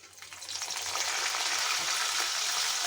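Dal frying in hot oil as curry leaves are dropped in, the sizzle swelling from quiet to a loud steady crackle within the first second and holding close, no voices.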